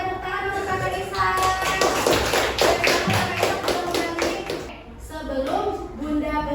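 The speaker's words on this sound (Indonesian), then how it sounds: "Oke, tepuk tangan untuk Kakak Isa." A classroom of children claps for a classmate, a burst of brisk, uneven applause that fades after a few seconds, with voices heard around it.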